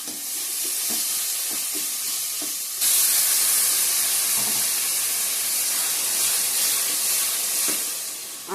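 Spice masala is sautéed in a pan with a continuous hissing sizzle that swells louder partway through, punctuated by faint scrapes and taps of stirring, close up and with no speech.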